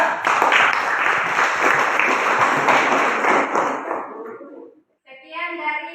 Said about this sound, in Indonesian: kita berikan aplaus untuk kepada kelompok 3